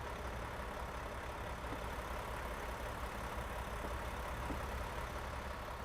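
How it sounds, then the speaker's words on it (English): A new Mack truck in American Truck Simulator idles with a steady, low engine drone, while surrounding traffic fills in a constant background wash. The sound holds unchanged throughout, with no talk. "you just hear the traffic more"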